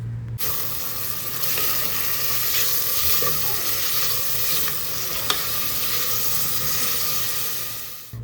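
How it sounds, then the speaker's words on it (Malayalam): Onions sautéing with salt in a pan for mutton curry, a dense, steady sizzle with a faint stirring scrape, close and even in loudness from start to finish. "ഇനിയിപ്പോൾ നമുക്ക് സവാള നന്നായിട്ടൊന്ന് വഴറ്റിയെടുക്കണം."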